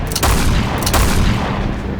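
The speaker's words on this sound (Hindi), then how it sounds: "लेकिन तब तोपें गरजी।" Cannon fire in a re-enactment of the 1527 Battle of Khanwa forms a loud, dense barrage of rumbling booms, with a couple of heavier blasts standing out over continuous roaring noise.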